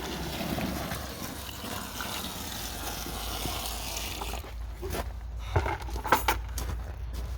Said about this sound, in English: So you fill up the hole with water first, third full.